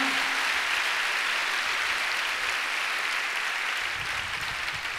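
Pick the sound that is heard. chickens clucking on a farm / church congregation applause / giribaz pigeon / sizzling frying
church congregation applause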